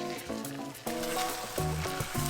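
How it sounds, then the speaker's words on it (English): A steady hiss of a chapatti frying in ghee on a hot plate fills the clip, with background music playing throughout. "you just want to pop it on and seeing it sizzle"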